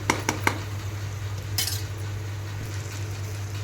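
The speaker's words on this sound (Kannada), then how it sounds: "ಒಂದು ಐದು ನಿಮಿಷ ಆದರೂ ಈ ಥರ ತಿರುಗಿಸ್ತಾ ಇರಬೇಕು" Masala spices stirred in oil in a pan for drumstick sambar, with a few sharp metal spoon clinks against the pan early on and one more midway, over a low steady hum.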